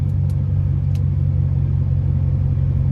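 A car with a 034 Motorsport transmission mount insert drives through its gears, giving a loud, steady low engine rumble heard from inside, with a couple of faint high ticks near the start.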